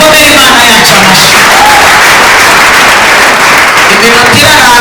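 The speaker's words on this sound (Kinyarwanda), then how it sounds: "Mukomere Imana yacu amashyi." Loud, dense audience applause fills a hall or church gathering, a continuous roar of many hands clapping with shouts and voices mixed in.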